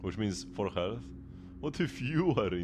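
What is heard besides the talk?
No distinct noise like a dog, phone or traffic.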